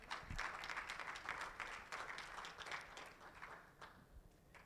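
Quiet, steady applause from an audience at a certification ceremony, a few seconds of continuous clapping that thins out toward the end.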